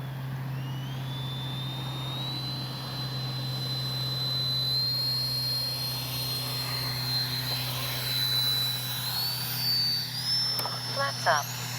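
E-flite 64mm Viper RC jet flying overhead, a steady ducted-fan whine that rises and shifts in pitch as it passes, continuous and fairly loud over outdoor wind noise.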